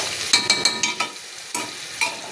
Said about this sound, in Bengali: কড়ার মধ্যে আদা রসুন পেঁয়াজ বাটা পেস্টটা দিয়ে দেবো ডিমের কালি করার জন্য